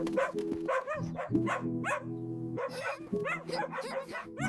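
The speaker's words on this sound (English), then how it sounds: "I also have a dog." A dog barks in a quick string of short, yappy bursts, close and fairly loud, over a steady tonal background.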